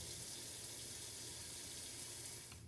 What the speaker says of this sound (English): Cover the potatoes with cold water